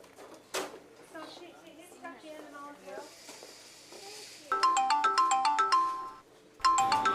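People talk with a busy background, then a bright electronic phone ringtone plays in a repeating melodic pattern, pausing briefly before starting again.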